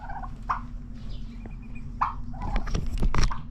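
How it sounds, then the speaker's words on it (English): Turkeys gobble in several bursts at a hotel's animal area, close and moderately loud over a rustling, noisy background. "We have some turkeys"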